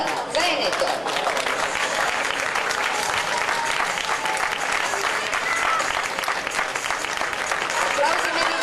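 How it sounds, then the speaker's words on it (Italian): An outdoor crowd applauding a show-jumping team at the Coppa delle Regioni in Piazza di Siena, a dense, even wash of clapping that holds steady at full strength for the whole stretch. "Applausi meritati per Stella Marchese, Filippo Pucciarelli, Alice Ulisse e Rebecca Lombardi"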